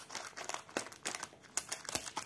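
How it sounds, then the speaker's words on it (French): Scissors cutting and rustling plastic packaging of a diamond painting kit, a short burst of crinkling and snipping in a few irregular close bursts. "Alors, je vais prendre les ciseaux."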